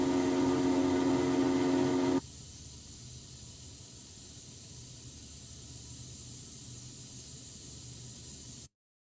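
A steady, soft hiss of escaping steam from a pipe running continuously, preceded by a brief louder tonal machine hum that cuts off abruptly, mixed as Unreal Engine 5 game sound effects.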